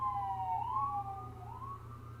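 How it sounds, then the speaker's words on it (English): An emergency vehicle siren wails through a city street, its rising and falling tone steady and moderately distant over a low constant traffic hum, with no talking. "I'm telling you, not one day without a siren."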